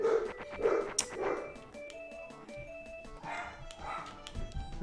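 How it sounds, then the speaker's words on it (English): A dog barks in loud bursts, several sharp barks early and more later, close by with some background noise and no clear speech. "There's the other dog."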